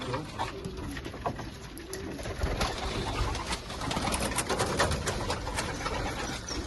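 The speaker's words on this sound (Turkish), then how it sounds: "400 tane güvercin var arkadaşlar" About 400 pigeons coo in low, soft overlapping calls inside a loft, with wing flutters and scuffling nearby in the enclosed space.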